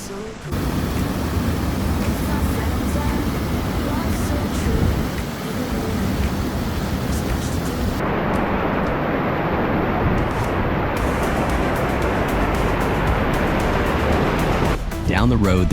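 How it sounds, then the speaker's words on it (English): A waterfall beside the Alpine Loop in the Colorado high country roars in a loud, steady broadband rush that holds unbroken for the whole stretch, with no clear voices over it. "On the way back, we checked out a third waterfall next to the Alpine Loop."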